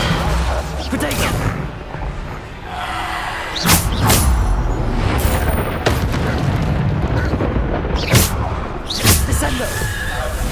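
Bombarda explosion spells go off in Hogwarts Legacy, several sharp booming blasts spaced a few seconds apart amid ongoing combat sounds, with a voice calling out spells.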